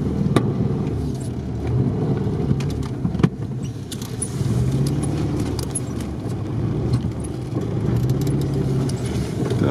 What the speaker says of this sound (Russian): По каким-то следам от Сильверова едем.